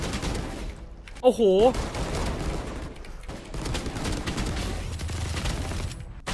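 Gunfire in the Valorant video game: dense, continuous crackling volleys fill the whole stretch, with a player's brief exclamation breaking through near the start.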